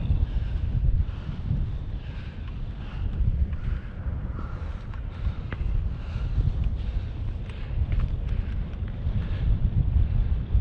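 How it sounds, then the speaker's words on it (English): Wind gusts across the mountain summit of Stob Binnein, a continuous low rumbling buffet against the microphone with a broad rushing wash, steady and fairly loud throughout, no one speaking. "Wind's starting to get up a wee bit now"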